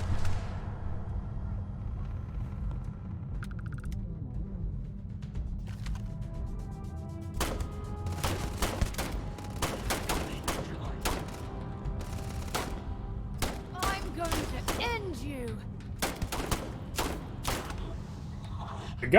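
Gunfire in the video game Starfield, with a string of sharp shots and short bursts piling up over a constant rumbling game backdrop. The shots grow denser in the second half and stay loud and close.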